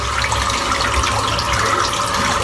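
A lather-filled shaving brush rinsed under a running tap, producing a steady, close, splashing rush of water that runs unbroken throughout.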